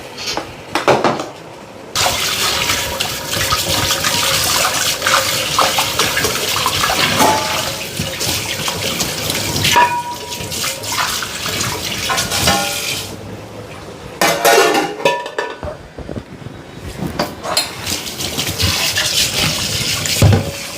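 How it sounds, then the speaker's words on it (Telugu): Water poured over sweet corn kernels while preparing crispy corn, a steady splashing pour that stops briefly and returns, close and fairly loud with clinks of kitchen utensils. "అప్పటిదాకా ఈ స్వీట్ కార్న్ కొంచెం వాటర్ వంపేసుకుందాం"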